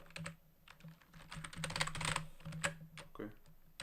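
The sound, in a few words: typing on a computer keyboard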